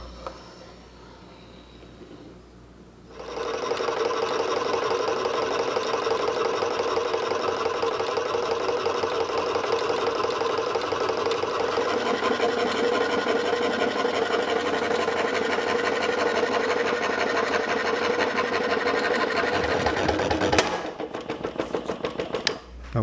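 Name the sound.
saw cutting an 11-inch circle out of walnut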